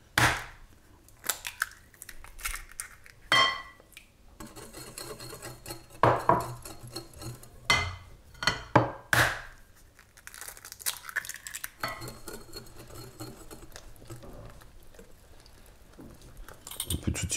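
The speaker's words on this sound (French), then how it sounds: "On commence à mélanger. On va y ajouter les œufs." Flour, yeast and eggs are mixed for a savory cake batter, heard as intermittent clatters and scrapes of utensils against a bowl, with uneven bursts and quieter stretches.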